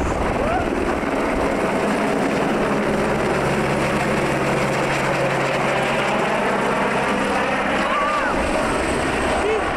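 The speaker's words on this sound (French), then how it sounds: "ça c'est notre hélico qui nous attend" A helicopter waits near Auckland, New Zealand, its engine and rotor making a steady, loud, continuous whine and rumble with no break across the whole stretch.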